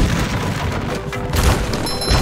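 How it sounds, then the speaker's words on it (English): A character explodes in SpongeBob SquarePants: Battle for Bikini Bottom, heard as a loud, booming blast with rumbling thuds that keep going through the whole moment, with no talk over it. "Oh, he's exploding."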